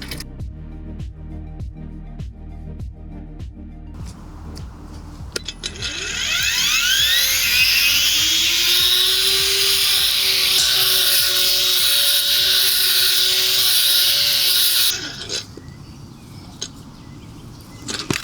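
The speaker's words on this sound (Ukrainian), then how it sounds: "А що буде, якщо я зараз дану траву, висоту даної трави зменшу за допомогою акумуляторного трімера?" Cordless battery string trimmer cutting grass: after several seconds of light clicks, a high whining motor buzz starts and holds loud for about nine seconds, then cuts off abruptly, leaving quiet rustling.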